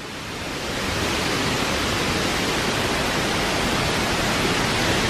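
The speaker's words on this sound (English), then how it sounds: "There's a waterfall." Waterfall seen from a bridge among rocks in South Mountains State Park, a loud, steady rushing roar that swells in over the first second and then holds constant, with no voices.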